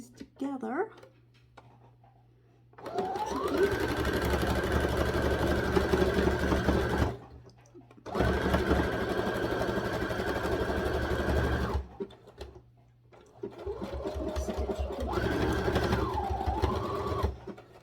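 A sewing machine stitches fabric pieces together for a small hat, running in three long steady bursts with short pauses between, loud and close, with a faint low hum throughout.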